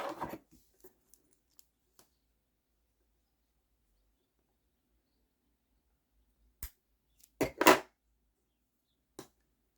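Scissors snip through a pink crochet yarn tail on a striped granny square, a small cluster of soft, close clicks and cuts near the end after long quiet, with a few faint taps earlier.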